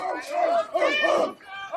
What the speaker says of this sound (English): Big crowd on hand tonight for both sides